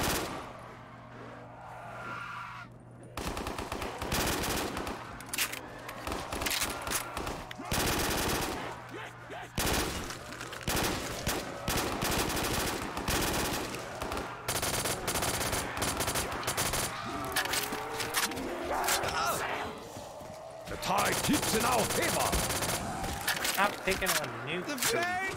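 Rapid automatic gunfire from Black Ops 3 Custom Zombies on the School of Dead map rattles almost continuously for about twenty seconds, loud and close, with someone talking over the shooting.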